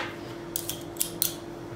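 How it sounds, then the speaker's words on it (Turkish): A handheld garlic crusher squeezes three or four medium garlic cloves, giving a few short, close metallic clicks and squeaks over a quiet kitchen hum. "Hemen onu da şöyle sarımsak ezicinin içine koyup eziyorum."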